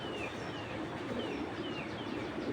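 A 2023 female racer pigeon coos in a loft, with a steady dense murmur of other birds close by and no talk.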